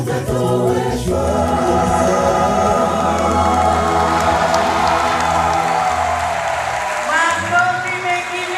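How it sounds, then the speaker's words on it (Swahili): Applause rises from a congregation after a gospel choir song in a Tanzanian church. It is a dense, steady patter of many hands clapping close by, with lingering musical tones underneath that fade out toward the end. "Makofi mengi mengi mengi mengi mengi mengi"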